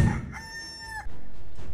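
A rooster sound effect gives a single sharp cock-a-doodle-doo, a bright drawn-out crow of about a second that stands alone and close, with a soft noisy rustle before and after.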